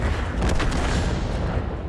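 Artillery bombardment in the tank game World of Tanks, a continuous rumbling barrage of heavy blasts with no clear gaps, loud and dense.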